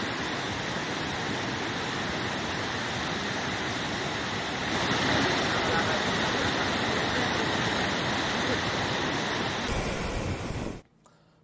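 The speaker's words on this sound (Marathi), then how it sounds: "हरिपुरा आणि वड्री ही दोन्ही धरणे तुडुंब भरले असून हे दोन्ही धरण ओव्हरफ्लो" Dams overflowing after heavy rain at the foot of the Satpura hills in Jalgaon send a continuous, loud roar of rushing water that swells partway through, steady and broadband, then cuts off abruptly at the end.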